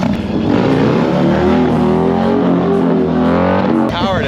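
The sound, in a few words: Harley-Davidson motorcycle revving for a wheelie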